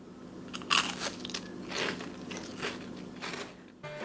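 Crispy baked chocolate tuile crunched and bitten, a series of sharp, brittle cracks and crackles heard close up with quiet gaps between bites.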